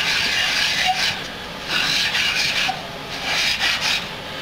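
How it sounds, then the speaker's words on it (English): Sandpaper rubs a wooden guitar neck in repeated circular strokes, a soft close rasping that swells and fades in an uneven rhythm, with no voices. "We'll just do circular motions, and all we're trying to do is kiss the neck and take off and touch all the sanding locations."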